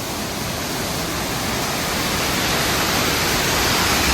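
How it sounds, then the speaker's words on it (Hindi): A loud, constant rush of a mountain waterfall in Kinnaur fills everything, a steady broadband roar with no pauses and no voices. "एक झरना हो रहा है यहाँ पर, ये देखो"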